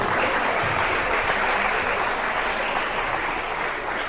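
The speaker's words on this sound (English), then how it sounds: "Give them a round of applause" An audience at a stage hypnosis show in Dallas applauds, steady, dense clapping from many hands, loud and sustained for the whole stretch without a break.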